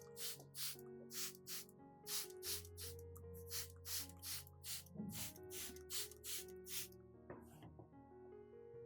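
Repeated short hissing bursts from a spray bottle misting both sides of orchid leaves, about a dozen quick sprays in uneven rhythm, close and clear over a quiet background.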